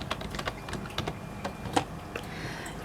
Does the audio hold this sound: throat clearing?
no